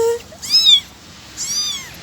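Young kittens just starting to walk meow loudly and shrilly up close, two drawn-out cries in quick succession with brief talk at the start.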